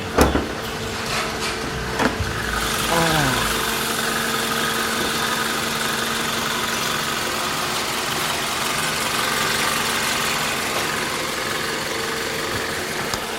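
A 2013 Toyota Camry ACV51 with a 2.0-litre engine and a faulty O2 sensor idles, a steady close mechanical hum with a low even drone after a few brief clunks at the start.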